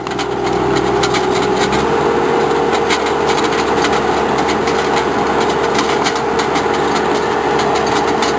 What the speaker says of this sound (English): This is our ditch witch in action.